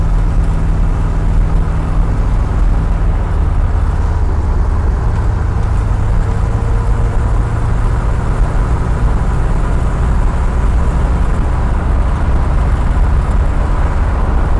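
A 1976 Pontiac Firebird on a test drive gives a loud, steady engine drone and road rumble from inside the car, with no break and no talking.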